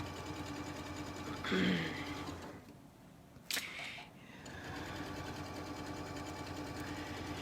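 A Janome sewing machine runs in short stitching bursts, its mechanical hum pausing briefly midway while fabric is turned, then resuming, all heard close up at low volume.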